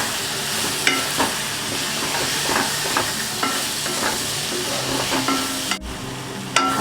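A spice masala with red chilli powder sautéed in a pan for Peshwari chicken: a steady, loud, close sizzle with repeated scraping stirs throughout, briefly dipping near the end before resuming.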